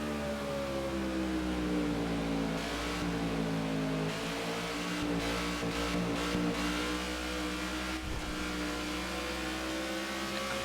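Stock car engine from the racing video game NASCAR '15, roaring continuously at high revs with pitch sweeps as the car shifts and backs off, loud and steady throughout with no voices.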